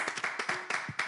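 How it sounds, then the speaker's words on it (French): An audience claps for children in quick, steady, close-up applause. Individual hand claps are clearly audible and no one speaks. "on va applaudir déjà les enfants"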